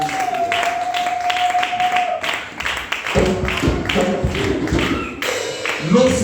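Church congregation clapping and cheering in acclamation of the king of kings, a dense crowd of claps with voices mixed in, rising louder in the second half.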